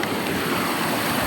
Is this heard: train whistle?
no